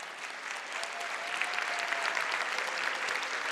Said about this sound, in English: An audience, thank you for that thunderous applause.